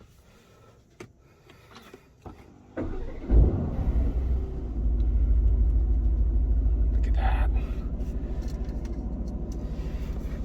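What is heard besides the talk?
2022 Aston Martin Vantage engine starting and idling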